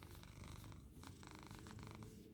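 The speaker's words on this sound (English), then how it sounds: "Can you guys hear him purring?" A house cat purrs close up, a steady continuous rumble pulsing with its breaths, with no talking over it.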